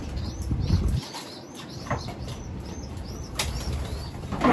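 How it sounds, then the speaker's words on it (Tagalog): Pet birds flap their wings at feeding time after a rain shower, a burst of close wingbeats at the start followed by softer flutters and scattered chirps and coos over steady background noise. "Pakain muna tayo mga ibon."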